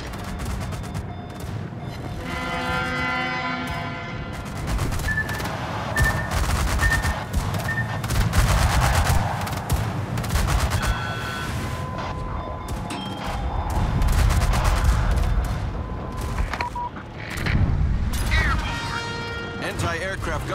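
Anti-aircraft gunfire in World of Warships, sustained rattling bursts and booming shots over several seconds, loud and continuous, with voices talking over the din.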